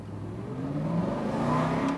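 A 2012 Aston Martin V8 Vantage convertible revs while driving, its engine note climbing steadily over a couple of seconds, heard from inside the car at moderate loudness.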